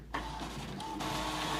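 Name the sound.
Epson EcoTank ET-3760 printer printing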